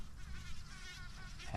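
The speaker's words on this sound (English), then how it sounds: "Happy bees." Bees buzzing close around large pink clematis flowers outdoors, a steady insect drone that swells slightly near the end.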